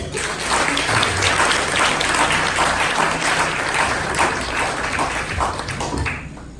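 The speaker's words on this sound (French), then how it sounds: "il vient saluer nous avec un applaudissement, s'il vous plaît." A church congregation claps in a dense, loud burst of applause that swells and holds, then thins out near the end.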